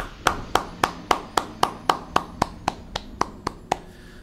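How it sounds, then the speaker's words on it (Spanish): A single person claps their hands, about fourteen sharp, evenly spaced claps close up with nothing else around them. "Un aplauso para mí."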